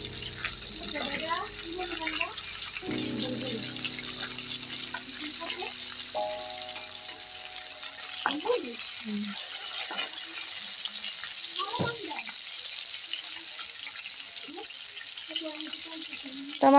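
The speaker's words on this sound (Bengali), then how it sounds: "এখন আমি এগুলোকে বাদামি কালার করে ভেজে নেব।" In a home kitchen, pieces of hilsa fish crackle in a pan of hot oil as they brown. The sizzle is a constant hiss, with faint background voices and humming tones drifting in and out beneath it.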